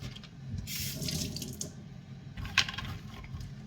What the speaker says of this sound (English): I'm going ahead to add some more water to clean it very well